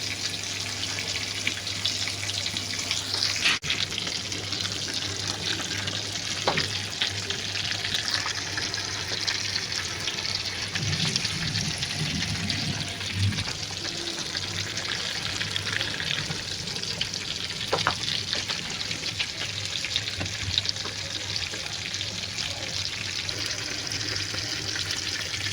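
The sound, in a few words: koi fish frying in oil on low heat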